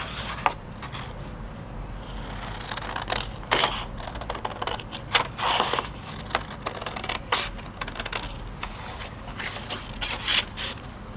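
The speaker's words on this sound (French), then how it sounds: "Et je vais prendre mes ciseaux et je vais couper." Scissors cutting through card for a handmade craft card, a series of close crisp snipping and scraping strokes at an uneven pace, with rustling as the card is handled and no talking.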